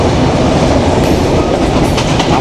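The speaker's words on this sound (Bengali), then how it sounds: "এই যে আমাদের বনলতা এক্সপ্রেস ট্রেন চলতেছে দুর্দান্ত গতিতে" The Banalata Express train rushes along at speed on the Dhaka to Rajshahi run, a loud, dense roar of wheels and carriages with steady clatter and no voices.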